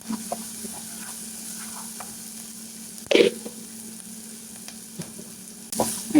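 Onion and garlic frying in a pan, a constant soft sizzle with a few occasional stirring scrapes and two louder knocks of the utensil against the pan.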